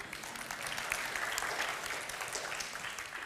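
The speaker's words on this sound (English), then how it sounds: "I think you should clap," Church congregation clapping, a dense, even burst of applause that holds steady from start to finish with no talk over it.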